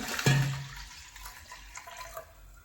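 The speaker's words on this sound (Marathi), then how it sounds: "यामध्ये मी गरम पाणीच घालून घेत आहे" Hot water poured into a pressure cooker holding washed wheat, a short splashing gush that starts loud and tapers into a softer trickle with faint kitchen clatter.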